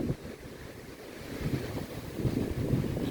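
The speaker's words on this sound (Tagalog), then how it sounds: "Naririnig naman ninyo siguro yung ng lakas ng hangin." Strong typhoon wind in Hong Kong buffets and rumbles against the microphone in a continuous low roar, swelling slightly toward the end.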